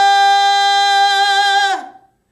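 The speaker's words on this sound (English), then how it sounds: "Are your high notes in a contemporary production of sound," A voice holds a single high sung note in a contemporary, straight-toned style, loud and steady with little vibrato for under two seconds before stopping abruptly.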